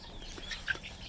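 A flock of chickens including an Easter Egger rooster gives faint, scattered clucks and chirps, distant and brief against quiet background noise.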